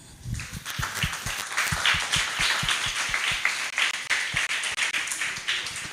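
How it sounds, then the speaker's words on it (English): An audience at a township film festival in Ekurhuleni gives a round of applause, a dense, steady patter of many hands clapping continuously, fairly close, with a few brief voices mixed in. "a round of applause"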